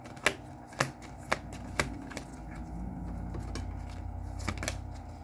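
A deck of tarot advice cards is shuffled up close, with sharp riffling snaps coming in quick irregular bursts, then a softer, steadier shuffling rustle, with no talking.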